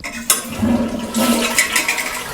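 A toilet flushes up close after a leak repair, a sharp click of the handle followed by a loud churning rush of water draining and swirling, with no one speaking.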